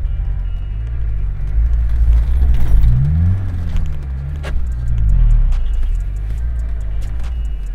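A four-wheel-drive diesel VAZ car climbing a hill off-road, its engine a loud, close, low rumble that rises and falls with the throttle over the whole stretch, with some rattling and no talking.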